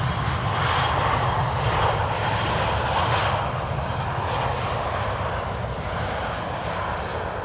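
A KLM-liveried Embraer 190 airliner arriving on Schiphol's Polderbaan runway 18R on a windy day, its jet engines a loud, steady roar that holds and then slowly fades.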